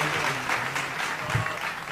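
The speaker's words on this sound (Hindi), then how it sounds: "एक बार जोरदार तालियां बजा दीजिए आप लोग" Audience applause at a Dussehra poetry gathering, a kavi sammelan, sustained clapping from a crowd with a faint low hum beneath and a brief thump near the end, steady and moderately close throughout.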